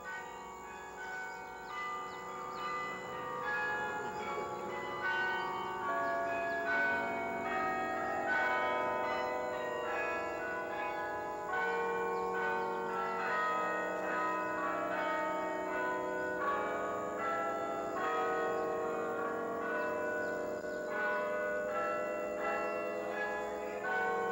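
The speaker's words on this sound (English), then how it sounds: "Its 23 bells, which were forged by Gillette and Johnson in Croydon, England, have made it renowned" A 23-bell carillon, cast by Gillett and Johnston of Croydon, England, rings out a continuous melody of overlapping tolling notes, loud and resonant, with no talking; in Simcoe, Ontario.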